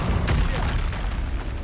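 Incendio fire spell erupts in Hogwarts Legacy, a close, heavy blast with a deep rumbling roar that sustains thickly for the whole moment.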